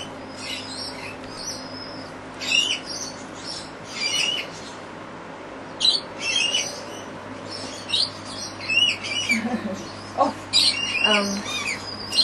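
A rescued wild pet bird with clipped wings gives repeated short squawks and chirps in intermittent bursts, close by, over a steady low indoor hum.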